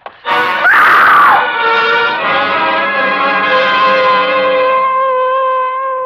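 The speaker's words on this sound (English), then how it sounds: "It was a good loud scream." A loud, long woman's scream from a 1950 suspense radio drama, rising sharply and then holding a sustained wailing tone for several seconds with no talk over it.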